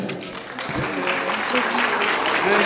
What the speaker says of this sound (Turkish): güzel bir moral alkışı